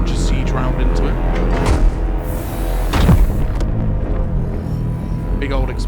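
Siege round fired into a heavy vehicle factory in the game Silica, bursting into one loud, deep boom near the middle over a steady, heavy rumble of battle.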